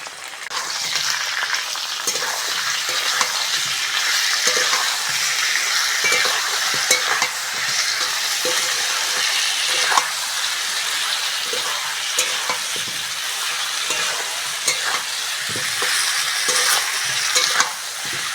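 Potatoes and onion frying in a pan with ginger-garlic paste, a loud, continuous close sizzle with frequent stirring scrapes throughout, no speech.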